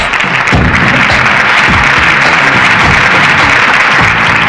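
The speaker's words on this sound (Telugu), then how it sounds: "క్లాప్!" A crowd at a prize-giving ceremony breaks into steady, dense applause, loud and continuous for several seconds with no speech.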